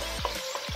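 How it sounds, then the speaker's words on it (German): An onion, carrot and garlic mix sizzles steadily in a kazan, a dense, close frying hiss with small pops and stirring scrapes. "Das tun wir jetzt leicht anbraten"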